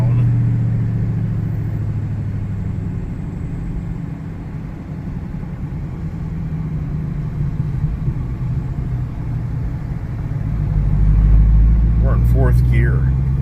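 Camaro Z28 V8 heard from inside as it pulls through the gears, a steady low rumbling drone that swells louder toward the end, with someone talking over it.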